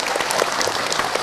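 Audience applause at a community empowerment gathering in Brebes regency, a steady dense wash of many hands clapping, loud and continuous with no talk over it.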